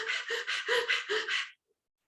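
Rhythmic breathing during Swan Pranayam yoga practice: about six quick, forceful breaths in a steady pulse, close and clear, ending abruptly into silence.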